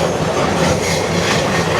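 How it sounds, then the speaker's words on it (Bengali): The Paharika Express passenger train departs in Bangladesh, rumbling close by, wheels clattering over the rails in a continuous heavy roar. "আমাদের ট্রেনটি এখন ছেড়ে যাচ্ছে"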